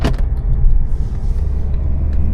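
An Opel Insignia 1.6 CDTI diesel pulls away under throttle, a low, close engine rumble with a steady hum from inside the cabin, brief and without talk.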